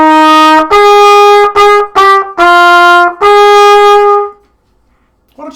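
Trumpet playing measures 37-38 of a piece, a short run of clear, loud tongued notes with brief gaps between them, ending in silence, with no talk.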